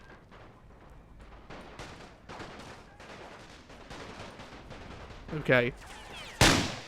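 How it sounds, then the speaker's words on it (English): Scattered gunfire and distant volleys crackle through a World War One battle in The Great War: Total War mod, with a sharp louder shot near the end and a brief spoken word. "This unit of conscripts is taking a lot of fire as they retreat"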